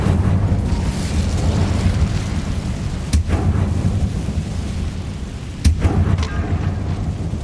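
An Incendio fire spell bursts in Hogwarts Legacy, making a sustained rumbling roar with low thundery weight. Two sharp, bright cracks stand out along the way, and a swell of fresh force follows the second one.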